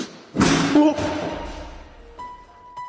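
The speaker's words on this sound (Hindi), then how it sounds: "एक दरवाजा गोस्ट हंटर के पास ही कहीं धड़ाम से बंद हो जाता है" A door slams shut with one loud, close thud that rings and fades over a couple of seconds, followed by faint small knocks.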